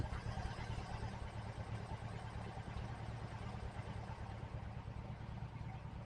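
A fuel-injected 1968 VW Type 3 engine idles low and steady, a continuous dense rumble with a faint rhythmic pulse throughout, close by and alone without talk.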